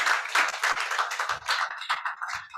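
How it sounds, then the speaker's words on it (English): Audience applause for the chairman at a legal arbitration event, a dense spread of hand claps with irregular louder bursts that fill the room without pause. "I'd like us to give a round of applause to the chairman of today's occasion."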